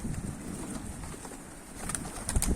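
Pigeons coo outdoors in Istanbul during a snowy blizzard. Soft, low cooing repeats close by over a breathy bed of wind noise.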